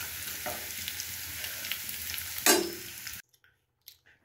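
Pakoras crackle and sizzle as they deep-fry in hot oil, a steady frying hiss with a louder burst partway through, then the sound cuts out to near silence with a couple of faint clinks.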